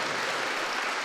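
A church congregation applauding during a Tuesday worship service, a steady wash of many hands clapping together, even and sustained, fairly loud with no voice standing out.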